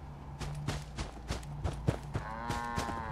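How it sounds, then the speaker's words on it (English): Cattle mooing in the video game Fallout 4, several low drawn-out moos repeating over a steady game background, with no talking. "stop with the mooing."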